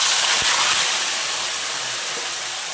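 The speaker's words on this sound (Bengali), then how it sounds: "এবার সম্পূর্ণটা এখানে ঢেলে দেব" An onion, oil and meat mixture hits a hot pan, setting off a loud, broad hissing sizzle that starts strong and slowly eases, with a couple of faint knocks and no speech.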